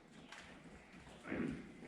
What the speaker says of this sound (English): The canter is probably easier than the trot for this horse.